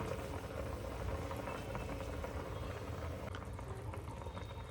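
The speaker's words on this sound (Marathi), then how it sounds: "आणि छान अशी उकळी आली आहे सूपला" Chicken rassa soup boils in a pot on a gas stove, giving a faint, steady bubbling hiss throughout.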